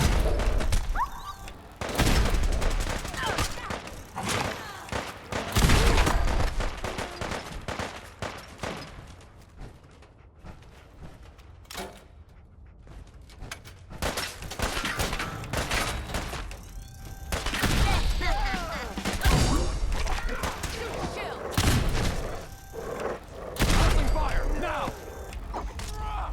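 Gunfire and mechanical combat noise in the Fallout 4 video game, with bursts of shots and clanks recurring across the clip at fairly close range, mixed with voices.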